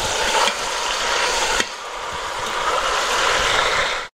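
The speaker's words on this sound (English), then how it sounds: "make sure all those pieces get nice and browned on all sides" Pork pieces brown in an Instant Pot, a steady close sizzle with occasional clinks and scrapes of stirring, moderately loud and continuous without speech.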